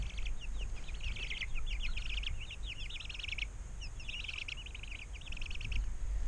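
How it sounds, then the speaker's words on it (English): Small birds chirp and twitter in rapid, overlapping bursts as they settle to roost in the evening, somewhat distant, over a low steady outdoor rumble in a garden. "the birds are making their bedtime sleeping noises"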